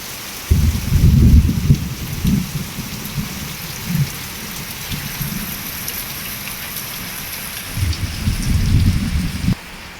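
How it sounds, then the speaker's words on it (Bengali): Heavy rain pours steadily as a dense hiss, with deep thunder rumbles rolling in near the start and again toward the end, with no voices. "প্রচণ্ড পরিমাণে বৃষ্টি হচ্ছে"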